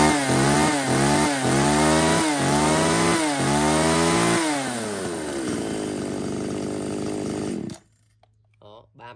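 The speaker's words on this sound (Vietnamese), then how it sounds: "tiếp đến là một con cưa tay dài Makita" A small 33cc two-stroke Makita pole chainsaw engine runs up close, revving in several quick bursts, then settling to a steady high idle before cutting off abruptly.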